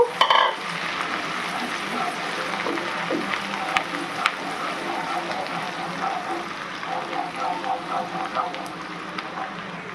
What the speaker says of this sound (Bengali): কুচি করে রেখেছি আদা, রসুন, কাঁচা লঙ্কা আর পেঁয়াজ, সেটাই তেলে দিয়ে দেবো। এটা একটু হালকা ফ্রাই করে নেব।